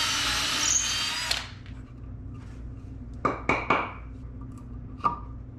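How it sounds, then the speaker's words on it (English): A power drill whirs loudly while drilling a hole for a tasting bar install, then winds down, followed by a few sharp knocks and a brief revving burst, close up. "I've got one more hole to drill here."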